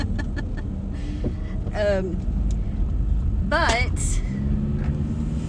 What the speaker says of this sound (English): my father-in-law is going to run me over with the corn truck